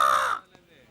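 A person imitates a crow with a single loud, nasal caw, held for a moment and then cut off into near silence.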